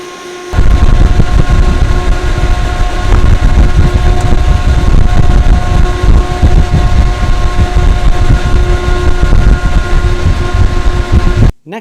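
A Noctua NF-A14 IPPC fan runs at 3000 RPM, giving a loud, steady airy whoosh with a faint tonal hum. It starts after a brief pause, holds constant throughout and cuts off just before the end.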